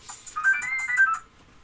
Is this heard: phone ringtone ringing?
yes